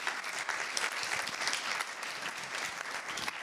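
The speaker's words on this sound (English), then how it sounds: "applause" Steady applause from a conference audience at a sales event, a dense wash of clapping that continues throughout at moderate volume.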